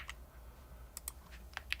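Typing on a computer keyboard during a coding session, a few quiet, sparse key taps, then a quicker cluster of clicks near the end, close but faint, with no voice.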